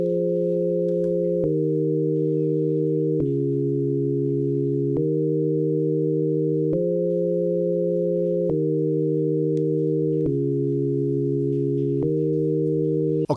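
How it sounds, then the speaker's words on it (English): Sine wave synth playing sustained chords, smooth pure tones changing every second or two in a slow, even progression, clean and alone. "which is just going to play some sine waves"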